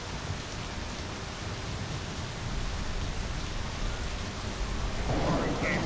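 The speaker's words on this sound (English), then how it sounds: "The rain sound is pretty nice in this game." Rain and thunder in the video game My Summer Car: a steady dense hiss of rainfall with low rumbling thunder rolling underneath, building slightly toward the end, without speech.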